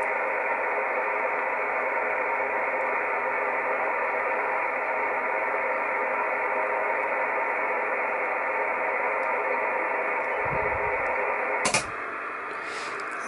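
Atmospheric static hisses steadily from a homebrew MC1350P-based SSB radio receiver, a dense, even wash of noise. One brief thump breaks it near the end, and the hiss then continues slightly quieter.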